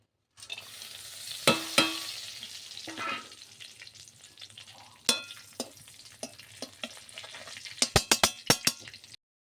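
A bay leaf, a cut dried chilli, cloves, cinnamon and cardamom fry in hot oil for butter chicken, crackling with scattered pops and stirring knocks, then a quick cluster of sharp spits near the end.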